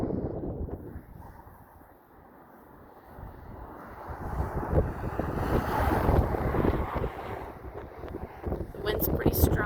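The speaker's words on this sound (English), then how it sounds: "The wind's pretty strong up here today." Strong wind buffets the microphone high on the Rio Grande Gorge Bridge, a continuous roaring rush that swells and gusts louder toward the end, with a voice speaking faintly beneath it.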